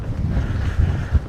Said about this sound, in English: It is really windy, so I'm not sure how good the images are going to come out.